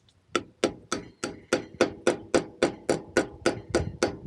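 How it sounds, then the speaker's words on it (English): Sixteen evenly spaced, sharp metallic hammer blows ring out in a steady rhythm as a wheel bearing is hammered into place, close and loud, with no talking. "we'll just hammer this in."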